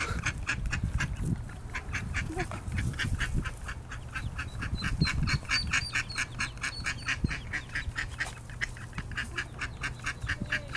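A mother duck and her flock of ducklings outdoors, with rapid, steady repeated quacks and peeping running throughout, fairly close and continuous over a low rumble of background noise.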